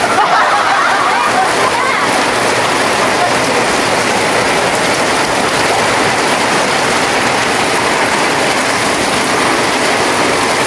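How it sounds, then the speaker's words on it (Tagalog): First rain of May falls steadily, a dense, loud, continuous hiss of drops on surfaces with no break. "Thank you Lord, umulan na."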